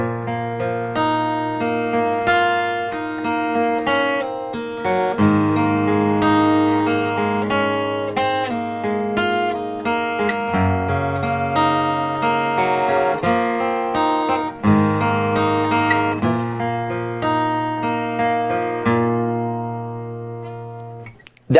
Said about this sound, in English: So slowly, the whole progression put together should sound like this.